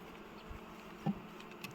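Faint, low buzzing of many honeybees murmuring steadily in a hive in the background, with a soft thump partway through.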